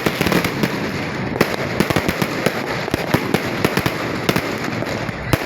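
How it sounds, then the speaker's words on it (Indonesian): New Year fireworks bursting over Kaimana, West Papua, a dense run of sharp, loud cracks and booms at an uneven rhythm over a constant crackling wash, with no voices. "Letusan kembang api menandai pergantian tahun di Kabupaten Kaimana, Papua Barat."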